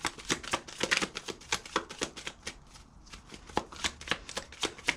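A deck of playing cards shuffled repeatedly in quick riffling bursts, close and crisp, with a brief pause midway before the shuffling resumes.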